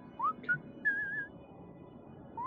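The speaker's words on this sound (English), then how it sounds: "Regina, you hear whistling from down beneath you." A few short, clear whistled notes, thin and tonal, rising and wavering, separated by pauses against a quiet background.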